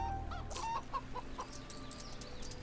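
New Hampshire chickens cluck in FarmVille 3, a few soft, short clucks and chirps scattered over a faint background hum, fairly quiet and close.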